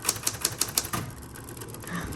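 A 1960s Smith-Corona Coronet Electric typewriter clacks through a quick run of about six sharp keystrokes, then the sound settles into a faint mechanical hum.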